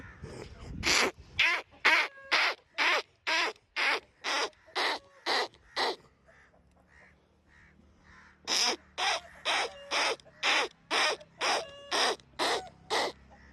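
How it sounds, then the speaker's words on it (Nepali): A flock of crows gathers and caws loudly, harsh calls repeating in a steady rapid rhythm for several seconds, pausing briefly, then resuming in another insistent series of caws. "हेर्नु त कति धेरै काग आएको।"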